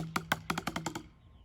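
Short drum pattern with diddles played on a drum set, a quick run of about ten crisp, close hits with doubled strokes, ending in a brief decay, no talk.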